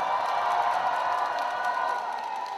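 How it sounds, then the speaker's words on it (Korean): Crowd applause from a concert audience at a televised regional singing competition finals, a dense steady wash of clapping with scattered cheers, fairly loud and continuous throughout. "큰 박수 한번 부탁드리겠습니다"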